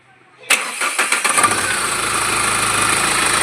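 Mahindra Scorpio engine cranking briefly and catching, then settling into a steady, close idle hum, from a vehicle with an EGR-related noise problem, with no talk over it.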